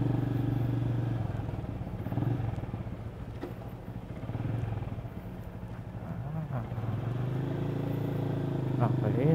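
A Benelli motorcycle, Imperiale 400 or TNT 600, rumbling steadily while being ridden, its engine note rising and falling with throttle, with a rider's voice occasionally over it.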